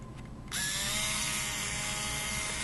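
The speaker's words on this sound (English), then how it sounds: "All I have is a little grinding stone and then my Dremel here." Dremel rotary tool with a small grinding stone shaving plastic off a game controller connector, starting abruptly and holding a high, steady whine with a buzzing edge, close and alone.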